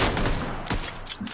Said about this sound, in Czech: střílí po mně, střílí po mně, střílí po mně, Kronosy!